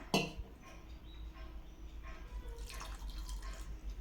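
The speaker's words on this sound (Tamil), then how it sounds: "அதே ஒரு கப் அளவுக்கு தண்ணி சேர்த்துக்கலாம்" Water splashes and trickles into a pan holding jaggery for kozhukattai, a faint running pour with a few drips after a sharp clink at the start.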